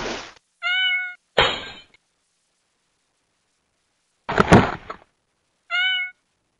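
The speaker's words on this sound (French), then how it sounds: "Ce chat a peur de l'eau." A cartoon cat meows twice in short, clean tonal calls, each paired with a loud splashing thud of bathwater, with silence between the two bursts.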